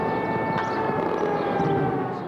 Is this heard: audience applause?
no